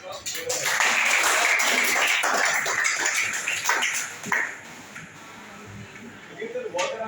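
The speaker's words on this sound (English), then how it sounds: "very very big round of applause" An audience at an entrepreneurship talk breaks into dense, sustained applause that gradually fades away, with a speaker's voice heard over and after the clapping.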